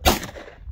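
A single sharp CZ pistol shot cracks out close by and loud, followed by a short decaying outdoor echo.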